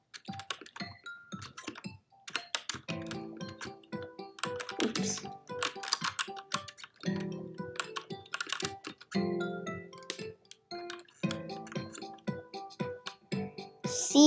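Computer keyboard keys tapped in quick irregular bursts and single presses while a rhythm video game plays, close and crisp, with clicky transients over faint in-game tones.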